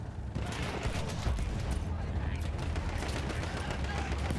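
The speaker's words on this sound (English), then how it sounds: "they're firing at us from the vehicle" Dense, continuous gunfire from an enemy vehicle in the Battlefield 1 campaign, a rapid rattle of shots with heavy low rumble and battle noise filling the whole stretch.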